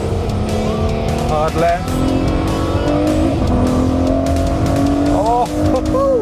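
A Ferrari F12 Berlinetta corners hard with oversteer and brakes, its engine note rising and falling loudly up close as tires squeal in short bursts, with someone talking over it.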